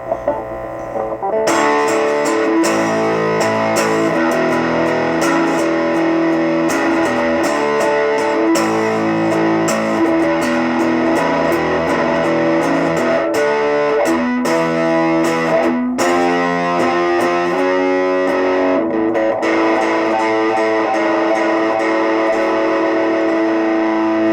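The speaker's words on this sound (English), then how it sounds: "It's just a very heavy distortion, but it's not thick." Electric guitar through a RAT 2 distortion pedal, heavily distorted, playing a continuous, buzzy riff with sustained chords and bright fizz, loud and alone.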